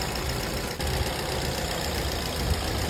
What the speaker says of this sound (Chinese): 发动机运行的特别平稳。